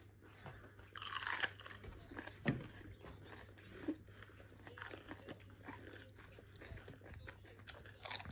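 Close crunchy biting and chewing of raw vegetables during a vegetable taste challenge, with a sharp bite near the start and then irregular wet crunches and chewing, fairly quiet and with no talking.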